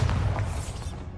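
A Bombarda spell explodes in Hogwarts Legacy, a soft, muffled boom with a low rumble that fades over about a second.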